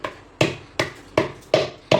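Dried dates wrapped in a cloth bag being crushed with a hammer: six sharp, evenly spaced thuds in quick succession, close and fairly loud, with no talking.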